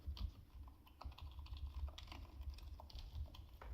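Fast typing on a budget keyboard fitted with Kisnt KN85 linear silent switches, soft muted dull thocks in a quick irregular patter, close up and fairly quiet, with no voices.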